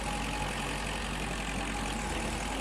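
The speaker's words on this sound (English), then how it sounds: "Come on, Mr. Tractor." A tractor engine in the historical farming game Agricultural Simulator Historical runs at a steady, droning idle. The rumble stays loud and constant throughout with no speech.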